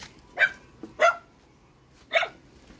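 A dog barks three times, sharp and fairly close, with short pauses between the first two and a longer gap before the last.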